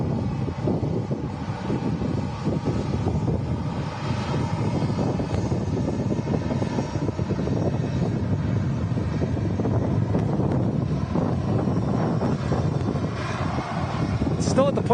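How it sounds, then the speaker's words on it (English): A TUI Boeing 737 MAX arriving from Dalaman comes in to land in gusty wind; a low, steady engine rumble sits under constant wind buffeting on the microphone. "Looks like a 737 MAX coming in next with TUI."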